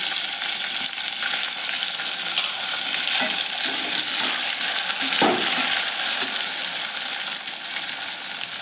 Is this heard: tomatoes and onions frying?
yes